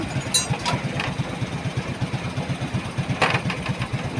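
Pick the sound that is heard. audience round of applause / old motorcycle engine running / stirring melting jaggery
old motorcycle engine running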